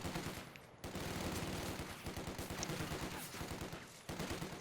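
MP40 submachine guns fire in a Company of Heroes 2 battle, with rapid, rattling bursts layered over continuous background combat noise at moderate volume.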